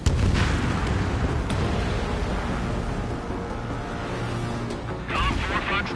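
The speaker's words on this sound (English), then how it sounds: "The harbor's under heavy fire!" Gunfire and explosions from the video game Ace Combat 7: rumbling booms and bursts of firing roll continuously beneath voices talking, with a sharper crack near the start and another burst near the end.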